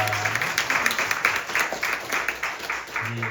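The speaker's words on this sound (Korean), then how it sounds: "우리 박수로 함께 영광 돌리도록 하겠습니다" A church congregation claps together during an Easter Sunday worship service, producing rhythmic, evenly spaced unison clapping that is loud and fairly close, with no speech over it.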